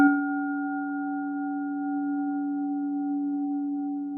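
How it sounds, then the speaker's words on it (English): A singing bowl struck once during a guided meditation, ringing with a clear sustained tone and steady overtones that linger nearly unchanged, close and alone. "what we're going to do is I'm going to use this singing bowl. And it sounds like this."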